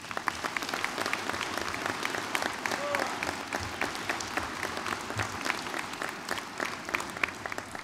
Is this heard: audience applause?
yes